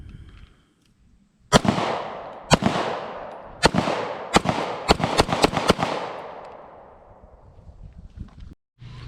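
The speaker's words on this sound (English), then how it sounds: "All right, a few rounds through the VIS-100" An FB Radom VIS-100 M1 pistol fires nine sharp, loud shots in an uneven sequence, each crack ringing out in the open before quiet returns.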